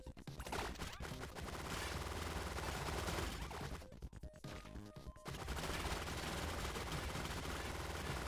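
Rapid, dense gunfire from the top-down shooter game Relic Hunter Zero pours out loud and continuous over a musical backing, breaking off briefly near the middle before the barrage resumes.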